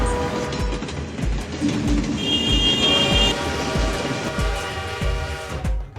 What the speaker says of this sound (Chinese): 轨道上开过来一辆火车，哐当哐当的声音就变成了烤肉摊最好不过的背景音乐